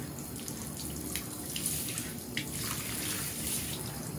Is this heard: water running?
yes